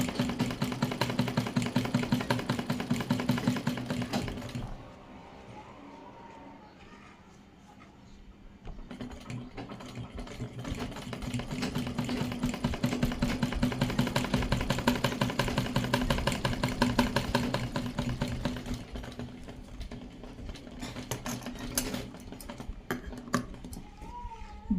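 A sewing machine stitches piping fabric onto a sleeve, a rapid mechanical chatter running close and steady, pausing briefly and then starting again; no talking.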